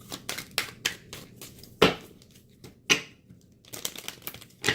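Sharp bursts of tarot card shuffling and riffling, several quick flurries separated by short pauses, close and fairly quiet with no talking.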